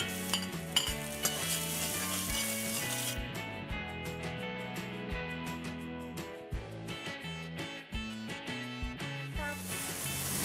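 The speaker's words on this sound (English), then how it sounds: "Then sauteing for about half of a minute" Garlic, curry leaves and pepper sauté in a hot pan for curried fish, a steady crackling sizzle broken by repeated clinks and scrapes of a utensil stirring against the pan.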